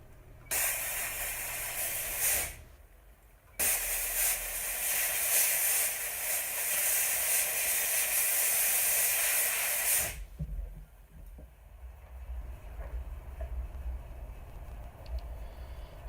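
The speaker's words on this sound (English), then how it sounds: "once we finish the steaming process" A steam cleaner hisses loudly in long, steady blasts on a gold and diamond wedding band, with a short pause between bursts, then cuts off and leaves a quieter background hiss.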